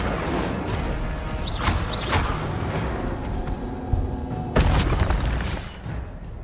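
An Incendio fire spell cast in Hogwarts Legacy, heard as a burst of booming, whooshing game effects with sharp impacts and rumbling mechanical sounds.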